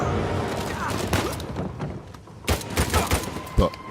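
Machine gun and pistol fire in the Uncharted 4 video game ring out in sharp bursts, with scattered loud shots crowding together toward the end over a dense, noisy game backdrop.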